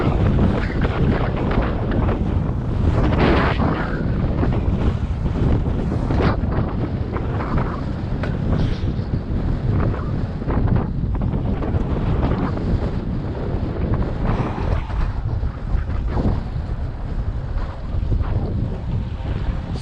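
Steady roaring wind buffets the microphone of a cyclist riding through New York City on a cold day, a dense, continuous rush that swells and dips slightly but never drops out, with no talking.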